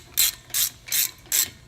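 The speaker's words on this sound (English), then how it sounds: "So now I gotta just snug these things down." A ratchet tightens the brake caliper nuts on a 2009 Honda Pilot: four quick, evenly spaced bursts of clicking, close and clear, with no voices.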